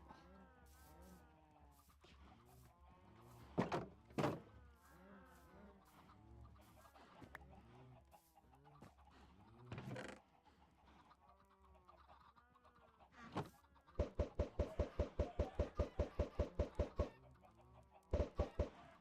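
Chickens cluck repeatedly in a Minecraft-style farming game, with harmonic calls scattered throughout and a rapid burst of sharp clucks near the end, heard clearly with no talking.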